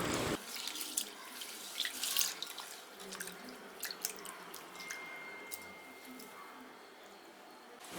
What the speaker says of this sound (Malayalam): വെള്ളം ഒഴിച്ചിട്ട് നന്നായിട്ട് കഴുകിയെടുക്കണം